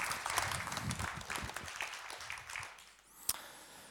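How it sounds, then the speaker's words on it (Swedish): Audience applause at an Internetdagarna conference session, a moderately loud patter of clapping that thins out and fades, with one sharp clap near the end. "En applåd."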